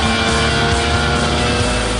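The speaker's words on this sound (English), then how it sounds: "Bernie's engine is roaring like a tiger." A modified car engine tuned to 300 brake horsepower roars loudly and steadily up close, a dense continuous growl with strong low harmonics and no breaks.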